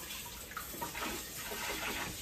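Water sprays in a steady, close hissing stream, a short continuous rinse of a Weston meat cuber/tenderizer frame, with slight fluctuations in flow.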